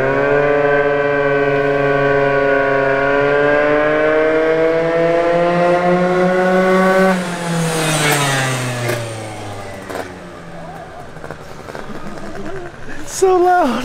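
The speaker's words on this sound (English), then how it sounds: "That's all car noise, it's not even exhaust." A small Audi's engine drones at a sustained high pitch, then revs down and fades, loud and close inside the car, with occasional voices over the tail end.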